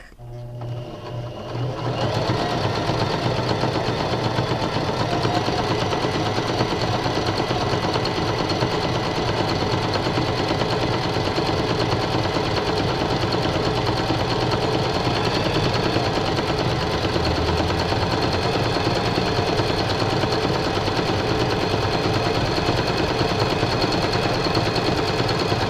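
A mechanical sewing machine stitches continuously at close range, a fast, even, loud whirring and clatter that starts after a quiet moment and runs unbroken.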